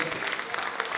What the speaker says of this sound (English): can we get another round of applause for Keisha Christie